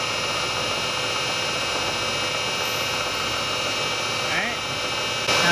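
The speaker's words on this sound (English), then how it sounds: "So I'm gonna turn the machine on here and touch off." A Bridgeport milling machine runs with a steady, even whirring hum throughout, close and continuous with no change in pitch.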